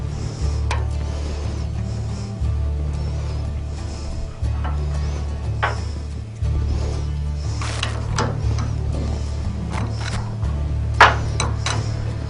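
Light taps from a tool knocking loose snug nuts on a CAT pump during maintenance, a few sharp knocks spread out over a steady low mechanical hum, with no talking.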